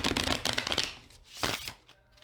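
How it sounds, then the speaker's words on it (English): An overhand shuffle of a tarot card deck, heard close up as a quick run of papery riffling bursts followed by a shorter second burst, with no talking. "And final overhand shuffle."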